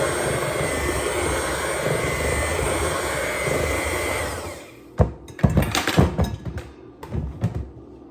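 An electric mixer beats plain cake batter with a loud, steady whirring drone for about four and a half seconds, then cuts off, leaving knocks and clatter of bowl and utensils.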